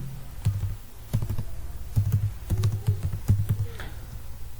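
Someone types C code on a computer keyboard, giving clusters of quick, close key clicks in short bursts with brief pauses between them. The clicks are fairly soft, and there is no speech.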